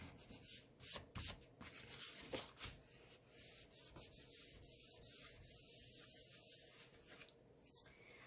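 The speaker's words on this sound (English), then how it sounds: "Little glue seeping out the edge there. I just rub that right off." A paper greeting card being rubbed with a fingertip to wipe away glue seeping from its edge, giving a steady, close, dry scraping texture that runs for several seconds with brief pauses and no talking.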